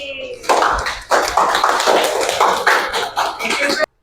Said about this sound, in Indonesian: tepuk tangan buat kelompok B